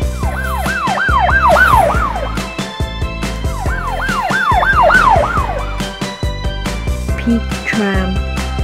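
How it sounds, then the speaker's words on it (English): A police car siren, apparently a toy, wails in loud rising and falling sweeps, sounding in two long bursts with brief pauses between and a short squawk near the end. "Police car."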